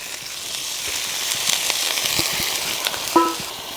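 Vegetables such as garlic, beans and cauliflower dropped into hot oil for matala undhiyu, Kathiyawadi style: a steady, fairly loud sizzle throughout, with a few soft clinks and a brief bright metallic ping near the end.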